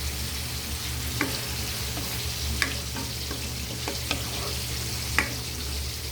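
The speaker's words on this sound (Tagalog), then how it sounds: "gisado lang mabuti ang ating kamatis at sibuyas" Tomatoes and onions sautéing in a pan with fish sauce, a steady close sizzle under a low hum, punctuated by several light scraping clicks of stirring.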